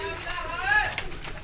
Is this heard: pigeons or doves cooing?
yes